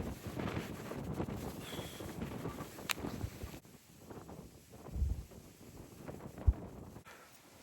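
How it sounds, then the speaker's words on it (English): Strong wind on the exposed Long Mynd hilltop: gusty rumble buffeting the microphone, heavier at first, then dropping to a quieter hiss broken by a few low thumps, no talk. "I've had to relocate because it was too windy"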